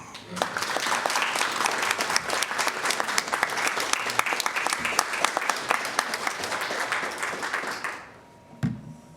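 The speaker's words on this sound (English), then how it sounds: "ey Wiedemeyer and the Iowa City Bike Library a warm round of applause for their work in the community" Audience applause at an annual human rights awards breakfast, a dense burst of clapping from a room full of people lasting about eight seconds before fading out.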